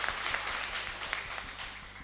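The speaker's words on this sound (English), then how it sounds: "Let us clap our hands for Jesus." Church congregation applauding together, a steady wash of hand claps at moderate level with low organ or music tones running underneath throughout.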